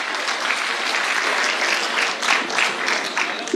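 Steady applause from a crowd at a poetry gathering (mushaira and kavi sammelan) in Baradari, Ghaziabad, a dense wash of clapping that holds at an even level throughout.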